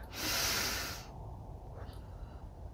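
A breathing exercise for recovery after COVID-19: one strong, close, hissing breath lasting about a second, then a quiet room with a faint soft puff.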